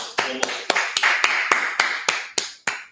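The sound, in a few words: audience clapping hands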